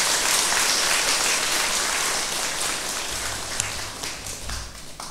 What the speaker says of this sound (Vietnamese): Hãy dâng cao một tràng vỗ tay thật lớn để tán dương chung.